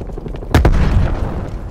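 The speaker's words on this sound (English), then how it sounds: "Throwing frag grenade." A frag grenade blast erupts suddenly in a video game firefight, a loud booming burst with a rumbling tail that settles into continuing gunfire and battle noise.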